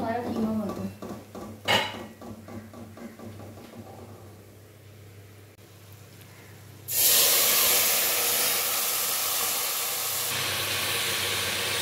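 Minced meat (qeema) hits a hot pan and erupts into a loud, steady sizzle after some clattering of pots and utensils and a woman's speech, the hiss continuing unbroken to the end.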